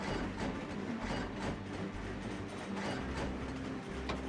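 Trains run in the Trainz railway simulation game, making a steady, low, continuous rumble with faint clattering throughout, quiet and unbroken.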